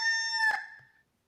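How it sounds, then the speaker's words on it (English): A rooster crows once, a loud, clear, drawn-out cock-a-doodle-doo heard close by and alone, ending abruptly after about a second. "The cock is crowing!"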